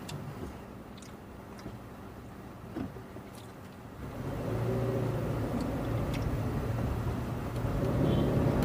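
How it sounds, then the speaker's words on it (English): A diesel vehicle's engine rumbles on a Jamaican road, a steady low drone that grows louder and nearer partway through and holds at a constant level, with no talking. "Oh, that's a diesel."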